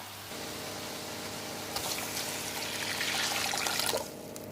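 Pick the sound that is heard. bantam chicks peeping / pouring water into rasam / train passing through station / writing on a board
pouring water into rasam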